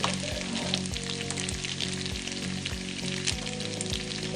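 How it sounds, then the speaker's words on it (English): Cooked noodles dropped into a hot pan for hummus pasta set off a steady, close sizzle, with a faint low hum pulsing underneath throughout. "Okay, so noodles are done. I'm just gonna add them right into the pan."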